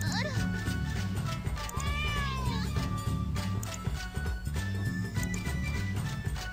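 A kitten meowing and hissing in the video game 1bitHeart, with several rising and falling cat cries over dense game music and sound effects, while a voice talks over the scene.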